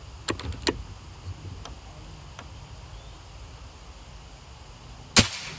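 Quiet outdoor ambience with scattered light clicks leads to a single crisp, close discharge of a Bocap RTXX air rifle shot at long range, landing about a second before the end.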